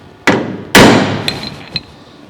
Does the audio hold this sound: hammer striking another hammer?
yes